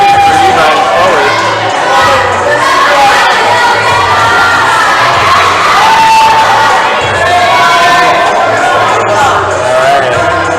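A crowd of spectators cheering and shouting at a top rope climbing competition, loud and continuous, with high children's whoops and yells over a steady roar of voices throughout.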